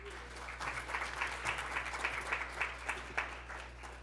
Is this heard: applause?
yes